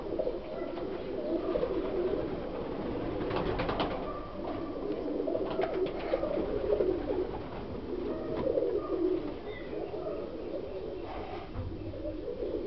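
A flock of pigeons coos in low, rolling calls that overlap at close range, with occasional soft flutters and chirps over a steady background.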